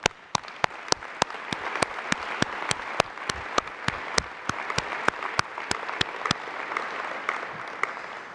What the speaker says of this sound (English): And I want you all to applaud that.